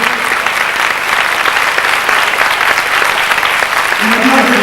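Loud, sustained applause from a rally crowd honouring the winner, car number 28 driven by Stéphane Bouquet, steady dense clapping for the whole stretch with a murmur of voices mixed in.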